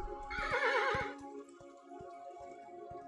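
A horse in the game Kingdom: Two Crowns gives a short, bright whinny up close, followed by faint, spaced clip-clop hoofbeats over a soft ambient hum.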